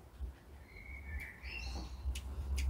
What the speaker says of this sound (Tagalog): Muhuni ang mga ibon.